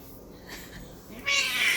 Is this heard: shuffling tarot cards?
no